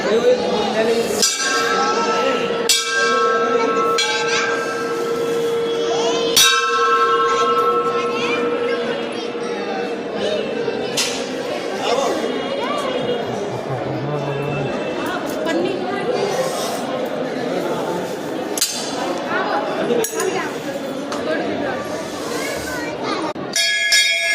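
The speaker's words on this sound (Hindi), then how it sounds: "घंटी बजा लेते हैं, वहाँ से घंटी बजाते हैं।" A temple bell rings repeatedly in short metallic strikes at a Shiva temple along the Govardhan Parikrama route, heard among nearby chatter and children's voices in a busy outdoor shrine setting.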